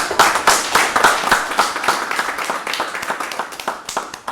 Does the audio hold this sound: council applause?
yes